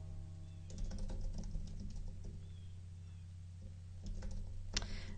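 Rapid keyboard typing in two bursts, quick and soft clicking close by over a low steady hum, with no voices.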